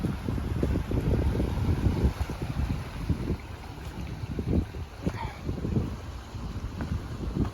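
Strong wind gusts buffet the microphone on an open beach, with a continuous rushing roar and surf rumbling beneath, loud and steady throughout with no voices.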